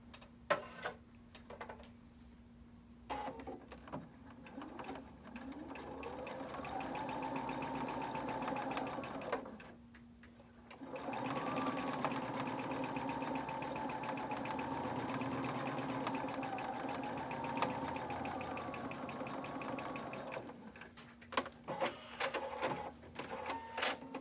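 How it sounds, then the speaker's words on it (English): A sewing machine stitches a pinned quilt block a quarter inch from a marked line, running in two long steady bursts with a brief pause between, a continuous close mechanical whir with a ticking rhythm. "I'm going to sew 1/4 inch on both sides of that marked line."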